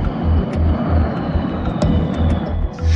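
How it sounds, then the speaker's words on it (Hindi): Indian MiG-29 fighter jets over Ladakh produce a steady, loud roar with a deep rumbling throb pulsing underneath for several seconds, and no talk over it. "लद्दाख के आसमान में पिछले कुछ दिनों से भारतीय लड़ाकू विमानों की गड़गड़ाहट इसी तरह"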